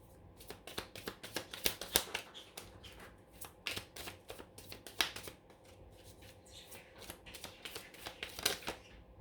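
Tarot cards being shuffled for a reading, a fast run of crisp riffling flutters and soft slaps repeating through the whole stretch, close and fairly quiet, with no voices.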